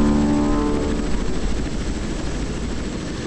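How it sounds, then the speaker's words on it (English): A helicopter takes off in a naval combat video game, a dense, steady rotor and engine roar at constant loudness that eases only slightly toward the end. "helicopter taking off"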